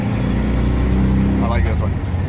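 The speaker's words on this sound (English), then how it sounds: "Here's a bonus Tuk-Tuk ride for you guys" Riding in a tuk-tuk in Cambodia, booked through a ride app: a steady close engine drone with road noise, loud throughout and briefly overlaid by talk.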